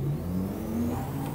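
A 4x4 engine in the Euro Truck Simulator 2 video game revs steadily at mid pitch while the wheels slip, a continuous close whirring drone with slight rises in tone.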